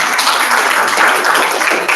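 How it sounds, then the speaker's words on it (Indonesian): A class of pupils claps hands together after their teacher's praise, a loud, close, steady patter of many hands over two seconds without pause or talk. "Tepuk tangan."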